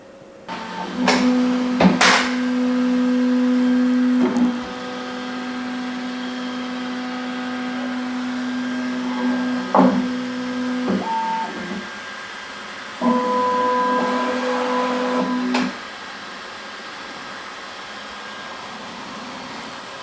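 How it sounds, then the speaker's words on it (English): A Bambu Lab X1 Carbon 3D printer runs its first print, its stepper motors whining in steady sustained tones with short pauses, brief clicks and changes of pitch, loud and close in a quiet room with no talking. "So this is the first filament I've laid in this printer"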